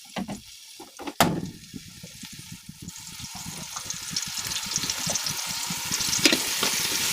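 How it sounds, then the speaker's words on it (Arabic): Crushed garlic hits hot ghee with a pan of potatoes, bursting into a loud, close sizzle that swells steadily while a utensil stirs and scrapes through the mix. "ننزل الثوم عليهم، نقلبهم منيح حتى يعطوا ريحة."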